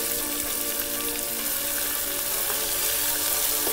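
Half an onion fries in oil with mustard seeds and cumin, a close, loud, unbroken sizzle with faint crackles throughout.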